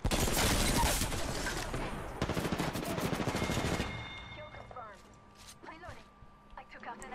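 Dense automatic gunfire in the video game Apex Legends rattles loudly for about four seconds, then gives way to quieter in-game sounds while a player talks.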